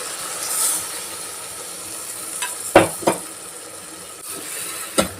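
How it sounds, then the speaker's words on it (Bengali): Ground spice paste hits a hot pan and fries with a soft, even sizzle, punctuated by a few sharp clacks and knocks of a utensil against the pan, close and moderately loud, without speech. "এরপর চলুন এর মধ্যে দিয়ে দিই বেটে রাখা মশলাটা।"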